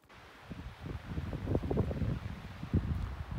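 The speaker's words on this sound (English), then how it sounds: "unfortunately the wind literally just picked up" Wind picks up along a forest trail, a steady low rushing and buffeting that swells and gusts unevenly. It is fairly close and loud, with no talking.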